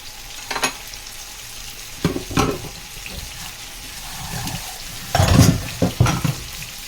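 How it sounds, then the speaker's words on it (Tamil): Chicken pieces dropped into a hot pan for a shallot fry, giving bursts of sizzling and stirring scrapes at intervals, loudest near the end, with no talk. "இப்போ நம்ம சேலை ஃப்ரைக்கு சிக்கனை போட்டுக்கலாம்."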